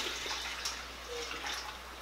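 Water pours into a cooking pot to make light syrup for canning whole figs, a continuous splashing trickle with a few brighter drips, moderately close and steady, with no talking.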